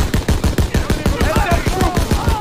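Rapid gunfire in a Call of Duty World War II game, a loud, fast train of evenly spaced shots like machine-gun bursts, with shouted voices over the firing.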